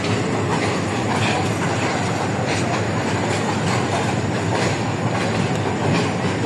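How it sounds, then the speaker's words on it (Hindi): Pakistan Railways Green Line Express passenger train arriving at a station, a loud steady rumble of rolling coaches with rhythmic wheel clatter throughout, close by and without talk. "ग्रीन लाइन एक्सप्रेस आ चुकी है 90-17 की क्यादत में।"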